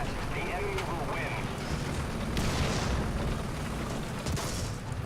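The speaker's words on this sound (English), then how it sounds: "we probably don't want to be here when the artillery starts really coming down" Artillery shells landing in the War Thunder tank game, a steady wash of rumbling booms and bursts with a few sharper hits, loud and continuous over five seconds.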